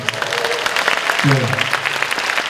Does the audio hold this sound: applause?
yes